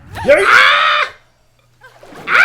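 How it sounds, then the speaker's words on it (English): Link, the hero of The Legend of Zelda: Tears of the Kingdom, lets out loud, close in-game screams: a long cry, a short pause, then another scream begins. "The best part is that you can hear Link scream."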